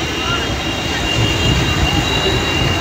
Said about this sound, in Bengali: গতি কমিয়ে ট্রেন চলছে